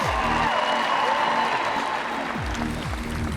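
A crowd at the 2018 Pacific Regional men's Event 5 applauds and cheers for competitor Matt Riley, a loud, continuous wash of clapping and cheering with faint voices beneath.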